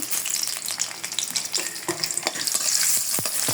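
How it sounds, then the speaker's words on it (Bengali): Chopped onion frying in hot oil in a pan for a cucumber and hilsa fish curry, giving a steady close sizzle with scattered scraping and tapping from stirring. "তেল দিয়ে দেব পেঁয়াজ কুচে দেব"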